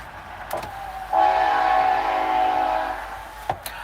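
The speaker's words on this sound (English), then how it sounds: "Fucking trains, man." A passing train sounds its horn in one sustained, fairly loud blast lasting a couple of seconds, with faint clicks before and after.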